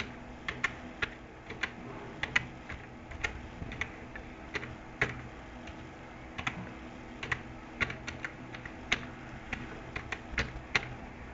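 Fingers type an email address on a computer keyboard, a close series of quick, irregular clicks and taps with short pauses between bursts.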